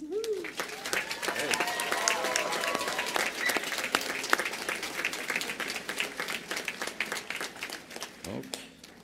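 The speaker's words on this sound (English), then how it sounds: "Give yourself a round of applause." Graduates and guests at a convocation applaud, a sustained close patter of many hands with a few louder individual claps, while voices call and cheer over it.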